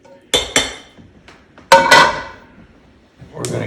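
Metal utensil clanks and scrapes against a pan while onions and garlic are cleared out of it, a few sharp close knocks followed by a brief ringing scrape, no talk.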